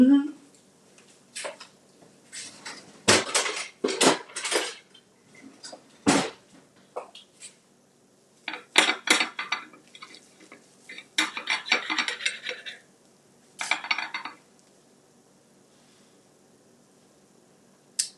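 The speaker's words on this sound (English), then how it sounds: "Let me get a serrated knife and cut it." A serrated knife saws through a crisp breakfast chaffle sandwich on a plate, giving uneven bursts of scraping and clinking with short pauses between strokes, close and fairly loud.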